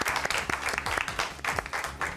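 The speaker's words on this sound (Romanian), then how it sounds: "S-o primim, cu aplauze pe Chicoș Maria!" Audience applause greets a young contestant walking on stage at a junior music contest, sustained clapping with a few sharper accents, moderately loud and steady for a couple of seconds.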